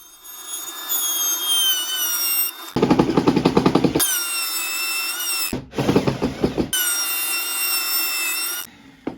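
A router table cuts a mortise in wood for a shoe-cabinet frame panel. A high motor whine runs throughout and breaks into two loud bursts of rapid chattering cutting as the bit bites the timber.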